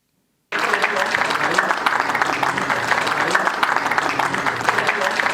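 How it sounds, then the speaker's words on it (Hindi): A large audience applauds steadily and loudly at a stage event honoring an astrologer, a dense continuous wash of clapping that begins abruptly and carries on without a break. "तालियां हो जाए सभी की"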